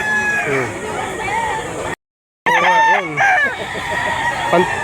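A rooster crows loudly nearby at a market in Lipa, Batangas, breaking off briefly into silence before more crowing and clucking follow, with talking mixed in.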